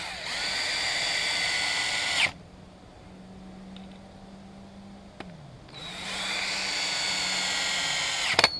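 Power drill driving 2-inch wood screws into the side of a 6x6 wooden post for a gate hinge, two long high-pitched whirring runs separated by a quiet pause, each ending in a brief clunk as the screw seats.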